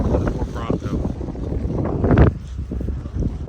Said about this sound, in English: It was really windy.